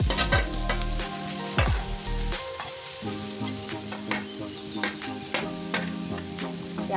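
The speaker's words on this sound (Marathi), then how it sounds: "छानपैकी आता गाजरांना ना परतून घ्या" Grated carrots for carrot halwa, about 700 grams, sauté in two spoons of ghee: a loud, close, continuous sizzle with repeated spatula scrapes and taps and no voices.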